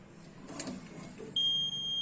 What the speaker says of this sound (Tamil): பீப் சவுண்ட் முடிஞ்ச பிறகு இங்கேயும் பிஸி லைட் ஆஃப் ஆயிடும்.